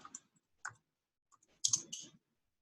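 Sparse keystrokes on a computer keyboard, faint and close, a few isolated clicks followed by a short quicker burst of typing in a quiet room.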